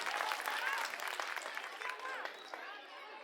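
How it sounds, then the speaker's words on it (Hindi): A rally crowd at an AAP public meeting in Sultanpur Majra, Delhi, claps in a sustained, dense wash of applause that fades slightly toward the end. "आप ताली बजा दीजिए, उनका उत्साहवर्धन कीजिए"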